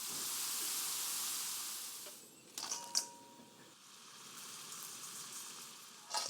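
Homemade French fries crackle and hiss in hot oil, a dense close sizzle for about two seconds that then drops away to quieter bubbling with a few sharp clicks and knocks.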